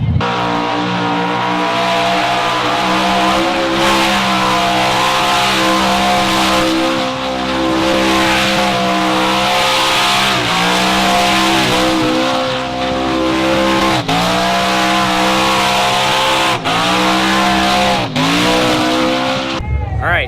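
A street car roars through a burnout at a Street Car Takeover event. The engine revs hard and the tires squeal continuously for about twenty seconds, loud and close, with crowd voices mixed in.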